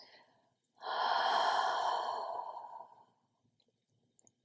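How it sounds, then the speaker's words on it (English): A single open-mouth "HA" exhale during a morning yoga class: one breathy, voiced sigh that lasts about two seconds, close and clear, after a short nasal inhale, then quiet. "take an inhale through your nose and an open mouth exhale, creating the HA sound"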